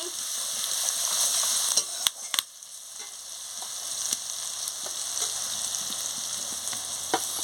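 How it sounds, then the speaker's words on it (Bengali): Spice masala with ground spices frying and being stirred for prawn malai curry: a bright, continuous sizzle close by, broken by sharp clicks of a spoon against the pan. "গুঁড়ো দিয়ে দিচ্ছি, দিয়ে ভালো করে মশলাটাকে কষিয়ে নিচ্ছি"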